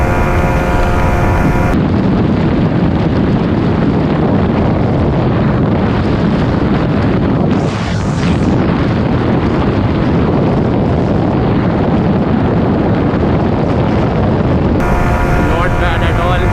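Heavy wind blast roars steadily over a Yamaha MT15 150cc motorcycle speeding near 140 km/h in a slipstream, a loud broadband rush filling nearly the whole stretch with a brief dip midway.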